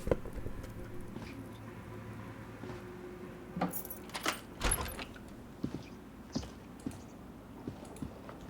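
Keys jingle in the game Disco Elysium, a scattered run of small metallic clinks and rattles that come in irregular bursts over a quiet, muffled background.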